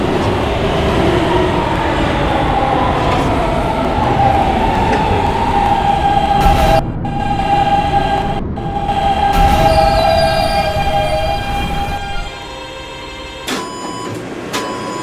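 An E subway train runs with a steady heavy rumble and rattle, a sustained metallic squeal riding on top, brief gaps, and lighter clatter as it slows near the end.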